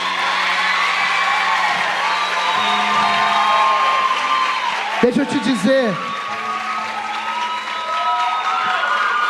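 A church youth service congregation claps and cheers more loudly with shouts and whoops rising from the room, while someone speaks briefly over the noise partway through.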